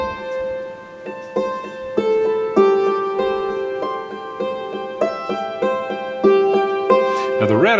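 A hammered dulcimer picks out a struck melody over a ringing drone held on A, with bright metallic notes decaying between strikes at a steady pace and a quick rattling flourish at the end.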